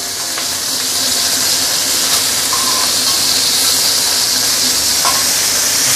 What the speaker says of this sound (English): barramundi, especially barramundi, when you pan fry it, it will be super fragrant